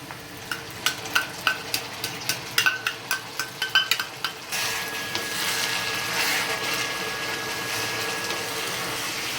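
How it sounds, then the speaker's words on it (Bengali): Ginger, green chilli and garlic paste is fried with browned onions for mutton curry: about a dozen sharp spatula taps against the pan, then a loud, steady sizzle that takes over for the rest. "এরপর আবারও ভালোভাবে মশলাটা কষে নেওয়া হবে"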